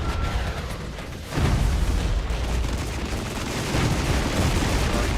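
A heavy artillery strike lands amid gunfire in the Regiments war game: a deep, loud boom hits early, then a dense, rumbling barrage of shooting and explosions rolls on without pause.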